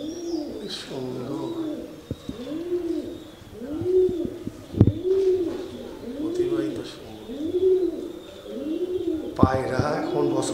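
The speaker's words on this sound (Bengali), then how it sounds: "পায়রা এখন বসবাস করছে রাজবাড়ির গেটে, এখন পায়রা বসবাস করছে।" Pigeons living on the gate of a palace at Bishnupur, Bankura, coo in a steady series of rhythmic, bubbling calls, loud and close, with a few other bird chirps and occasional knocks around them.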